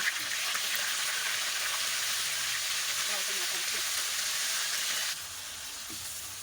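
Marinated beef sizzles loudly in a hot pan, a steady frying hiss that drops off sharply near the end.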